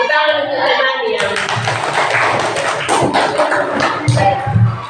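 Classroom applause from a group of fourth-grade children clapping their hands, a dense burst of claps rising after a brief pause and continuing loud and close, with some voices mixed in.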